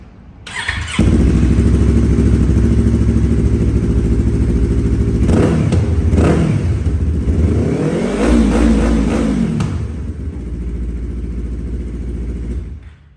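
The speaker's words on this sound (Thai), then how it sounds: "อ่าเดี๋ยวเบิ้ลเครื่องให้ฟังนะครับ" A 2019 Yamaha R3 sport motorcycle engine starts up close and loud, idles, then revs sharply several times, rising and falling in pitch before settling back.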